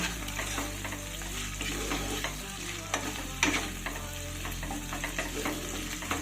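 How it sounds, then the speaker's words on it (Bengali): Chopped tomatoes fry in a pan while a spoon stirs and scrapes them, a steady close sizzle with irregular clacks and scraping strokes throughout, no voices. "এবার টমেটোটাকে একটু ভেজে নিতে হবে"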